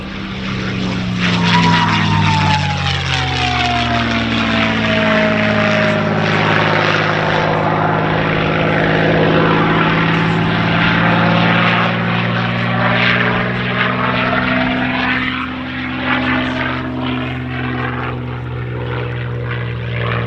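A P-51 Mustang at an air show flies past alone with a loud, sustained propeller-engine roar and a distinct whistle, the pitch sliding downward as it passes by and then fading slightly.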